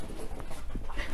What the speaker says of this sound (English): I'm sorry, my dog interferes.